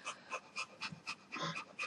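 A boxer dog pants close to the microphone inside a radio studio, giving about eight quick rhythmic breathy huffs in under two seconds, with no talking.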